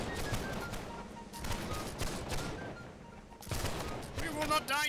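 Musket volleys crackle in the video game Holdfast: Nations at War, shots firing across a bridge in dense, overlapping bursts that go on steadily, with players talking over the gunfire.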